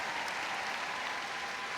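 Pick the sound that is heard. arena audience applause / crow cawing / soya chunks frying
arena audience applause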